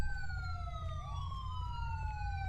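Several police car sirens wail at once in a video game roleplay, their steady tones sliding up and down and overlapping, loud and continuous over engine rumble with no voices.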